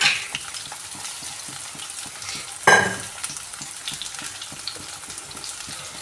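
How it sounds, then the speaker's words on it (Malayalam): Steady frying sizzle from a pan of ghee with sugar stirred in, continuous crackle with occasional stirring scrapes and one brief louder burst midway; no voices. "ഞാൻ കുറച്ച് പഞ്ചസാരയും കൂടി ഇട്ടിട്ട് നന്നായിട്ട് വഴറ്റിയെടുക്കുന്നുണ്ടേ"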